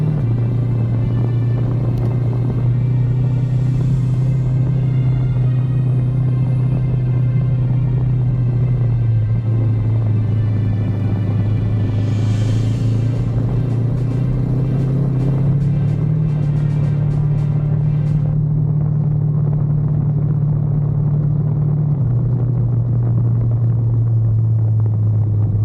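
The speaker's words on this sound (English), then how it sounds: "stay on top of the gravel, because if you try to slow here now you sink into it and it gets harder to drive" An off-road car drives at steady speed along a gravel forest track, its engine a loud continuous rumbling drone with slight pitch shifts and gravel crunch and road noise beneath, heard alone without talk.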